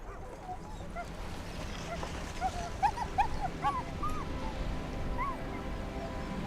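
Sled dogs on a Greenland expedition yelp, whine and bark in short high bursts over a steady low rumble, several animals at moderate distance, growing busier toward the middle.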